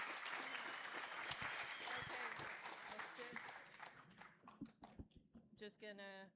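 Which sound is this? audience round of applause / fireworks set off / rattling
audience round of applause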